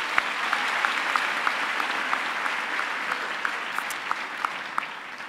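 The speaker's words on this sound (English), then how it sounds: "I'd now request you to give them another round of applause" Sustained audience applause fills a graduation ceremony hall, a dense, steady wash of many hands clapping with a few sharper individual claps standing out, lasting the whole stretch with no talk over it.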